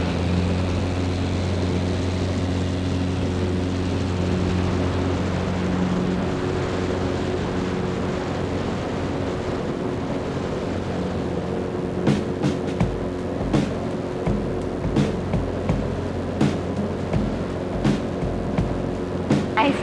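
A Zenith CH 750 Cruzer light sport aircraft drones steadily in flight, its propeller engine a loud, continuous hum with a constant low tone, joined near the end by brief bumps and clicks.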